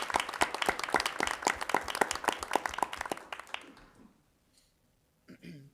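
A village council meeting audience applauds the fire chief, brisk, distinct clapping from a modest crowd that dies away after about three seconds, leaving near-silence before a voice begins.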